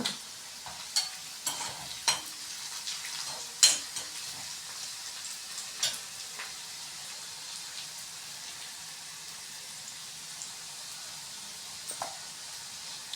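Onions with salt sauté in a pan, giving a soft, continuous sizzle broken by a few scraping stirs early on and quieter frying afterward.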